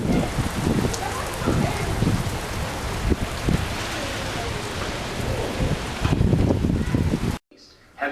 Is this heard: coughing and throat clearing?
no